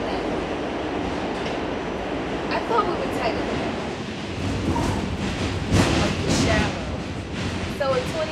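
Steady rumble and rattle of a moving train carriage heard from inside, continuous and moderately loud, with people talking over it.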